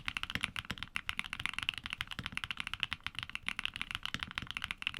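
Rapid, continuous typing on a Keygeek mechanical keyboard with bright, fairly shallow switches, giving a fast patter of crisp clicks, close up and quiet with nothing else heard.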